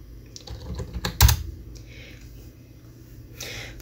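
A password typed on a computer keyboard while logging into a Linux server: a short run of soft key taps, with one louder thump near the middle and a few faint clicks later, close up and without speech.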